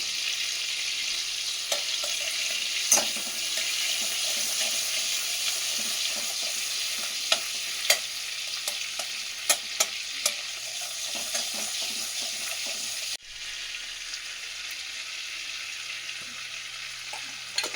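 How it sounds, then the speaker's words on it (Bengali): Kashmiri chili powder frying in butter gives a soft, continuous sizzle with scattered stirring clicks and scrapes, easing slightly lower in the last few seconds. "এখানে 1 চামচ কাশ্মীরি লঙ্কা গুঁড়ো দিয়ে বাটারের ভিতরে ভালো করে এটা একটু ভেজে নিচ্ছি, যাতে কালারটা ভালো হয়।"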